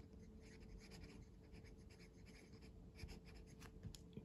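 An Esterbrook Camden fountain pen with a steel medium nib, loaded with a generic black ink cartridge, scratches faintly across paper in soft, continuous strokes, with a few sharper scrapes near the end and no talking.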